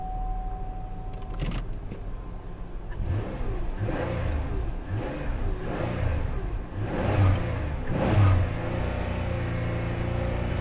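Car engine revving then bogging down around 3,500 RPM as if about to stall, at a salvage auction yard; a steady rumble with several rhythmic surging pulses, loud and close, no talk.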